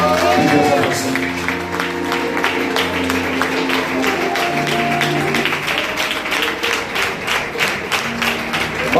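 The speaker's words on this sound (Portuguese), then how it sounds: "Quem acredita nisso, aplaude e glorifica a Jesus" A church congregation claps during an evening service of repentance in a Portuguese-speaking church, brisk rhythmic applause with sustained tones and voices underneath, steady from start to finish.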